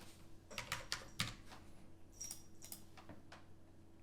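Typing on a computer keyboard at a desk, a short burst of quick key clicks followed by a few scattered presses, close and fairly quiet with no talk.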